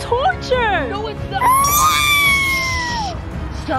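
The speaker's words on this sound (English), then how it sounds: "Stop screaming." Shrill, wavering screams rise and fall over a few seconds in a noisy indoor scene, loud and close, with excited voices mixed in.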